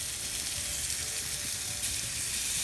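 Chicken on a grill gives off a steady, soft broadband sizzle with faint crackles. It continues evenly and stays fairly quiet, with no voices.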